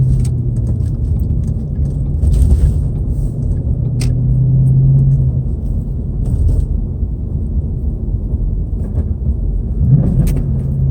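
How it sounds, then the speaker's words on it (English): A Ford Mustang's engine rumbles steadily close by during a clumsy rev-match attempt, the car lurching forward, with brief rises in engine pitch and a few light clicks and rattles inside the cabin; no talking. "I know how to, like that, but then my car lurches forward."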